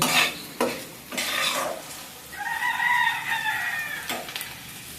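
Taki fish fries in a pan for bhorta, with scraping stirs and sizzling near at hand, while a rooster crows loudly in the background partway through.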